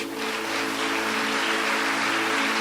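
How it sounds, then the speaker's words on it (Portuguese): Congregation applause at a Sunday church service, a steady, dense wash of clapping sustained throughout at moderate level, with a faint tonal hum underneath. "Pode dar um aplauso a esse Deus"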